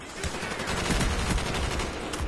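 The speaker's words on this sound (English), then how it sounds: "Hip firing on this gun is fairly accurate." A Commando rifle is hip-fired in Call of Duty Black Ops, letting out a rapid, continuous stream of automatic shots at an even rhythm, moderately loud and close, without talking.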